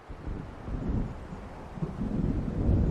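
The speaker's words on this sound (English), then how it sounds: "It seems there's a storm coming." Stormy wind and rumbling thunder from the video game Alan Wake roll on steadily throughout, with broad gusty noise building toward the end and no talking.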